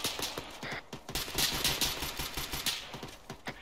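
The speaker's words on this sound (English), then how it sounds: "Moreira, suppressive fire, north-northwest." Rapid bursts of suppressive automatic gunfire in an ArmA III battle, crackling shots stacking into dense overlapping rattles, loud and close throughout.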